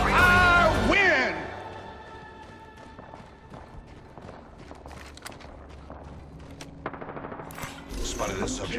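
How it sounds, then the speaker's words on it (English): Gunfire in the battle royale shooter Apex Legends: scattered rapid shots and crackling bursts sound at a distance, with footsteps and game noise, after a loud musical passage with singing at the start. "They're shooting at me."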